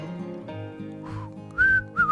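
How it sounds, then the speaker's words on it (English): People whistle the Andy Griffith theme song together, a few clear sustained whistled notes over a low sound in the background, and the notes get brighter and louder near the end. "Let's end with whistling the theme song to Andy Griffith."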